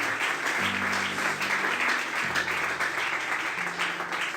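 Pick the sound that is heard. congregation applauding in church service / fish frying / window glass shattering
congregation applauding in church service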